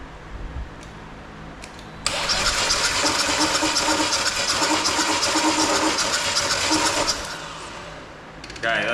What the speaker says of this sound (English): see if we can get this engine to wind over